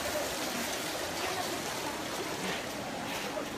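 Floodwater from an overflowing river in Nayarit rushes constantly, a broad, even roar of moving water with no pauses, moderately loud and alone.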